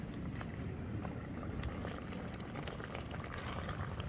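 A cooking pot bubbles steadily over an outdoor fire during bush cooking on a tropical farm. It is a continuous, dense boiling hiss and gurgle at close range, with no talk.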